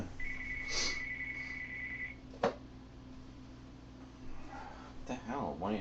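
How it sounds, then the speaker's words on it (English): A telephone rings indoors, a single sustained electronic tone lasting about two seconds, moderately faint, followed by a sharp click and a person starting to talk. "the phone is ringing"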